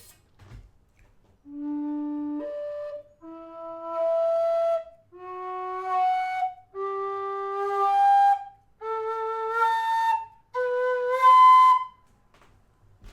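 A tin whistle plays a rising series of six sustained high notes in its second octave, each held about a second with short breaths between, clear and alone.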